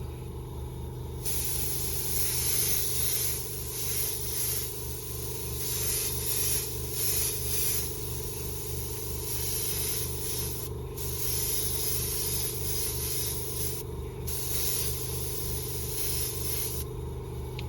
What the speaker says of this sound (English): Let's again do the sound test. Sounds like it sprays pretty neat.